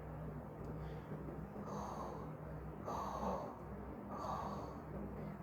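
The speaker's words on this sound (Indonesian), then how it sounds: "diganti suara napas berat" Slow, heavy breaths rasp in and out in a steady rhythm, about three long exhales, close and quiet with no talking.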